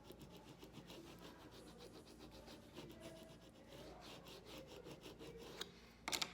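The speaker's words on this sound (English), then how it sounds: "we're going to give it a scrape right onto our wood" Scraping tool rubbing clear transfer tape down onto a wooden surface, a steady close rasping scrape that continues throughout, with a couple of sharper scuffs near the end.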